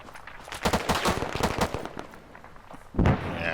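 A grenade explosion in ARMA 3, rapid cracking shots and impacts for a couple of seconds, a quieter pause, then a single loud heavy boom.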